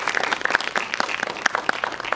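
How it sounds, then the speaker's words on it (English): A modest panel audience claps for a couple of seconds, individual hand claps distinct and uneven, fairly close. "Give him a round of applause"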